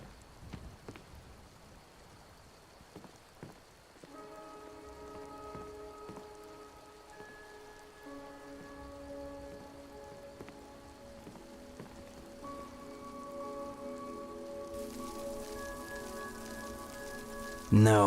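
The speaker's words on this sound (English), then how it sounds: "I'm wondering how many raindrops have hit us since we started talking" Steady rain patters throughout the game Skyrim, a soft continuous wash with a few sharper drop ticks early on, layered under sustained musical tones that swell later, with a loud burst at the very end.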